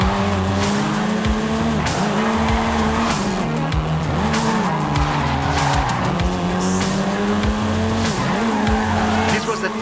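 Volkswagen Golf R, seventh generation, driving in Forza Horizon 5 with a steady loud engine drone and repeated tire squeals and skids throughout, no talking.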